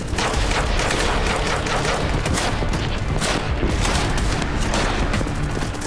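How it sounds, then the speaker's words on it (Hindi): A dense barrage of sharp blasts and bangs from explosions at military sites during a Houthi war exercise, rapid and overlapping, keeps going over a steady low rumble with no pause. "सैन्य ठिकानों पर विस्फोट किए जा रहे हैं।"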